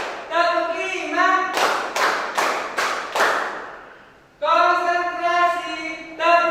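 A voice chants in Indonesian in a sing-song tone, counting claps, then five sharp hand claps ring out in an even rhythm before the concentration clapping chant resumes.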